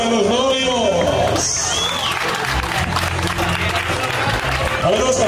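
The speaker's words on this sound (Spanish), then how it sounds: "El aplauso para los novios." Wedding guests applaud the bride and groom at a lively celebration, scattered clapping and crowd noise mixed under loud voices and music-like tones throughout.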